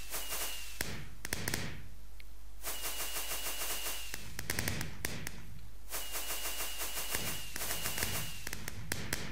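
Repeated bursts of rapid crackling pops from Minecraft fireworks come in loud waves separated by short pauses.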